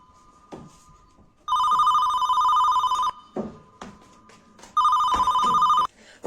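A telephone rings twice, loud and close, each ring a sustained electronic trill of about a second and a half, with a quiet gap and faint rustling between them.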